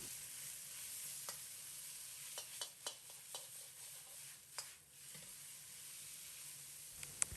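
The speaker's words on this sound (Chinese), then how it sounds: "放入攥干水分的梅干菜，在锅中煸炒2、3分钟，把水分彻底炒干" Squeezed-dry mei gan cai (dried mustard greens) stir-fried in a wok with a little oil, ginger and garlic, giving a soft, low sizzle broken by scattered light clicks and scrapes of stirring.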